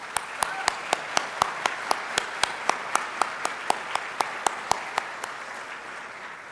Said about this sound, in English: let's give the faculty a round of applause